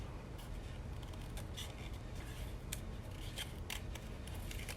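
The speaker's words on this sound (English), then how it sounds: "keep your paper, move your paper, keep your scissors straight, and you will fussy cut awesome every time" Scissors fussy-cut around a stamped paper image for a spring card, giving a steady run of close, soft snipping and rustling paper with no talk.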